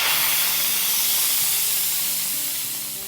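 A pressure cooker holding mutton biryani vents steam in a loud, continuous close hiss that stays strong and then tapers off slightly at the end, with no voices.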